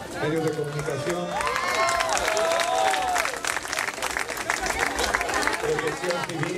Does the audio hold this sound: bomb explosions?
no